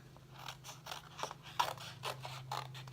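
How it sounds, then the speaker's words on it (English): Scissors fussy cut around a stamped paper image for a handmade card, giving a run of soft, close snips in a steady rhythm of roughly six cuts, with a faint low hum underneath. "You just need to fussy cut this out."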